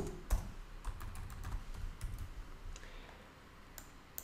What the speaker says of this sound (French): Et on va taper super-héros.